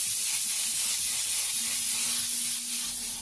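An airbrush sprays paint in a steady, continuous hiss that stays close and even throughout, with no talking over it.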